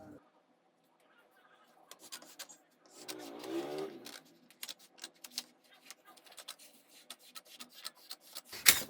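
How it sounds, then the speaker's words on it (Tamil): Shirt fabric for an XXL-size shirt being cut by hand with scissors: quiet, scattered snips and soft rustling come in irregular bursts, with a brief low voice partway through. "இங்கே கையை அப்படியே கட் பண்ணிடலாம்."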